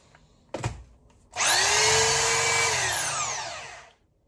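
A rotary hammer drill in drilling mode runs at full speed for under three seconds, a loud, steady high-pitched motor whine that winds down at the end, preceded by a brief handling knock.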